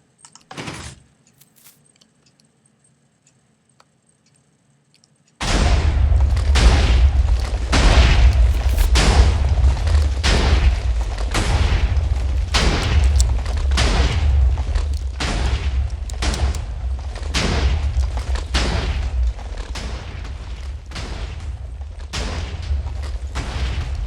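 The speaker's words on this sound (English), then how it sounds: "I'm going to fire a few rounds, then turn it off." Quadruple-barrel automatic TNT cannon in Minecraft firing after a few seconds of near silence, a steady loud rhythm of repeated booming blasts that keeps going without a break to the end.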